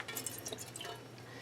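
Water trickles and drips off a packing tape photo transfer, quick faint splashy droplets close by over a soft wash of liquid.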